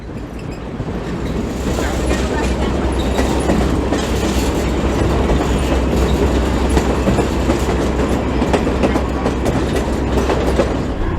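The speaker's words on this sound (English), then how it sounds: "Crosses over the railroad tracks." Loud, steady rumble of a train rolling over tracks with rhythmic clickety-clack of wheels, close and continuous throughout.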